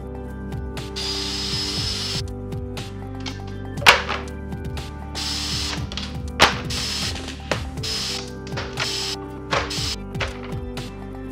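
A power saw making test bevel cuts in wood on a jig, with whirring motor spin-ups and wind-downs and sharp cutting bursts, plus knocks and thunks of handling between cuts.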